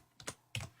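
Typing on a computer keyboard while entering a command into a Windows 10 search box: two short bursts of key clicks, close and fairly quiet, with no talking.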